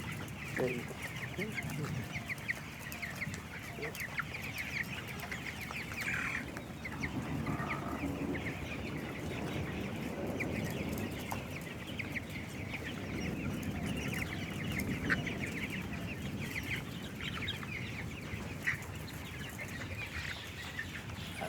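Young chickens at a poultry farm in Burichang, Comilla, cluck and chirp continuously while feeding, a dense, steady flock chorus with occasional speech in the background.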